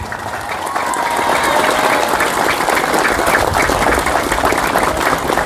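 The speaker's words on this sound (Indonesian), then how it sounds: "mari kita tepuk tangan untuk Babul Ulum ini" Audience applause for Babul Ulum school's 48th anniversary, a dense, loud wash of clapping from many hands that swells and holds steady.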